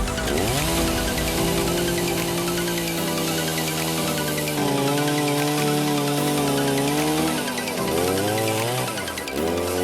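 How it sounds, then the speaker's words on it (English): A chainsaw cuts through wood during a workshop build, its engine droning loud and close for the whole stretch, with pitch dips and surges as the bar bites in, eases off, then revs again. "I decided I needed to give the chainsaw a try myself."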